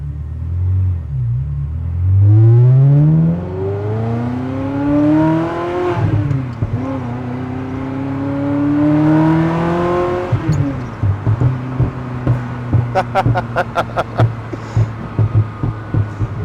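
A manual Ferrari 360 Modena Spyder revs hard while driving, its engine climbing through repeated rising pitch sweeps, loud and close, then settling into a lower rumble with a few sharp clicks near the end.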